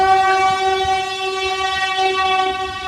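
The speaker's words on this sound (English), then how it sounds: "by having the loud train passing you" A loud train passing close by in Canada, its horn blaring with a steady sustained tone over rumbling wheels, continuous and filling the whole moment.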